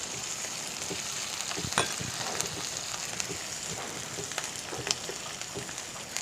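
Onion cut into squares, green chillies and capsicum sauté in a pan, a steady soft sizzle running throughout with scattered scraping stirs and light clicks, no voices.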